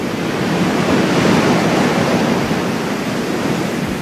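Sea waves breaking on the shore of Gorée island, a loud, continuous wash of surf and roaring water blended with wind noise, steady throughout with no voices.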